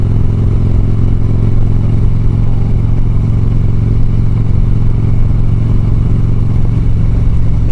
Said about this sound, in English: she'll backfire and decel pop when it's hot